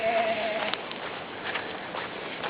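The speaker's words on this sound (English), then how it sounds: "I hear the goat." A goat bleats once, a short wavering cry right at the start, during a creek flood, followed by a low, steady outdoor background noise with a few faint ticks.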